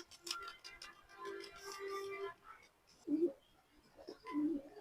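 Young pigeons, a male and a female chick, coo in soft low bursts near the listener, with rustling and faint background noise between calls.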